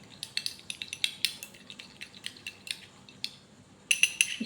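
A spoon mixes homemade face pack ingredients into yogurt in a small bowl, giving a run of light clinks and scrapes against the bowl, with a few sharper taps near the end.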